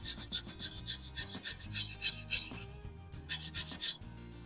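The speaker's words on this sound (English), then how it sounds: "This is a stripping brush and this is a wire brush. I'm just gonna go for the stripping brush first," A stripping brush scrubs paint off an old Marx toy engine, making rhythmic, close rasping strokes in quick bursts with brief pauses, fairly quiet and with no talk.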